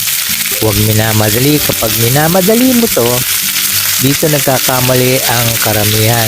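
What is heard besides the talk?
galunggong fish sizzling while frying in a pan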